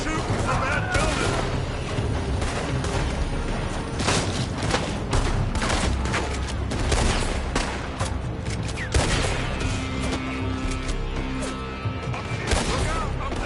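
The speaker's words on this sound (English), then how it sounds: "They're shooting from that building!" Heavy gunfire pours from a building during a Red Dead Redemption 2 shootout, dense and continuous with overlapping shots and crashes, while voices shout underneath.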